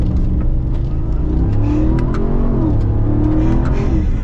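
Ram TRX pickup truck launching hard under launch control, a loud deep engine roar rising steadily in pitch as it accelerates, heard from inside the cab with no talking.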